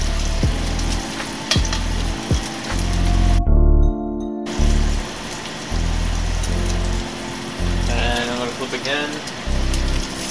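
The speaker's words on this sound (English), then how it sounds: "See, the sizzle is increasing now." Steady crackling sizzle of bacon frying in a cast iron pan, close and busy, with a brief musical interruption and a voice speaking partway through.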